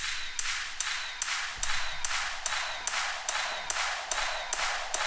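A crowd stamping-and-clapping sample with the low end cut away, heard as a steady, evenly spaced run of about a dozen crisp, bright claps that sound almost like drumstick hits, played alone.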